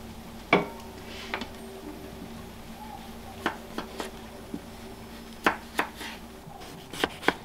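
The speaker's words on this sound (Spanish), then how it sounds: "En lo que está la carne voy a picar las papas." A knife chops potatoes into small cubes on a cutting board, with scattered sharp taps arriving irregularly over a low background hum.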